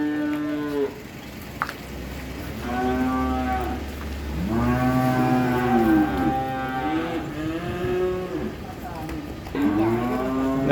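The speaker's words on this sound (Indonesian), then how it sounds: "Dan ini sapi-sapi super dari Sapipedia Wonogiri dalam kesempatan sore ini." Several super cattle at Sapipedia Wonogiri, an Indonesian livestock seller, moo in a series of long, loud, drawn-out calls. The calls repeat steadily one after another against a low background hum, with no talking.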